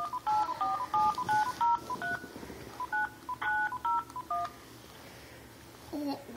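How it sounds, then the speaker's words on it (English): Telephone keypad tones beep in a quick series of short pulses as a number is dialed, with brief pauses between clusters, followed by a lower tone near the end; faint background room noise. "let's dial the phone."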